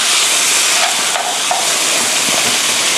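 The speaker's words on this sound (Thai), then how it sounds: "ผัดให้เข้ากันอีกสักเล็กน้อยนะคะ" Pork ribs stir-frying with lemongrass and fish sauce in a hot pan, a loud continuous sizzling hiss with a few faint scraping stirs underneath.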